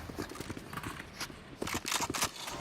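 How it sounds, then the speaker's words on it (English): Rapid footsteps in the tactical shooter Valorant during a pro esports match, a steady run of close, loud, thudding steps pushing forward with some sharper clattering hits mixed in. "they can hear, again, the rumbling of the footsteps forwards"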